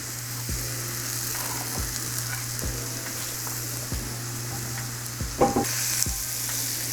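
A steak sizzles steadily over a fire grill, a loud continuous hiss broken by occasional sharp pops and crackles close by.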